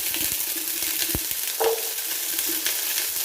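Shallots frying in a pan for chicken biryani: a steady hissing sizzle close by, with a couple of brief knocks and a short tonal clink from a utensil partway through.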